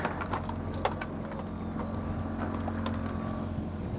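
Wind rising over a fishing boat on Lake Superior during a brown trout and salmon trip, a steady rumbling wash of wind and low engine drone with a few faint knocks and distant bird calls.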